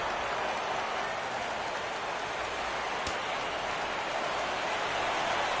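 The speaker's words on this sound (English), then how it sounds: "Crowd gets up for the 3-2." Crowd noise in the MLB The Show 17 baseball video game as fans rise for a full count: a steady, dense roar of cheering that holds at an even level throughout, with no commentary.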